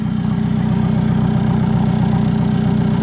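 A car fitted with a Capristo exhaust sits idling, a steady, loud, throbbing low rumble that holds even and continuous throughout with no voices.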